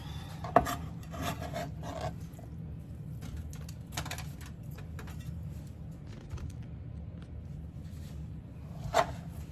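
Knife cutting breakfast sausage on a board, soft scraping and rubbing strokes with a couple of sharper knocks, close up and steady, with no talk.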